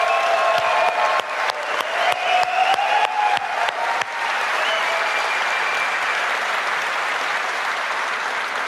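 An audience at a Bungie Destiny 2 gameplay reveal applauds the development team, with sharp individual claps at first that swell into sustained, dense applause from a large crowd.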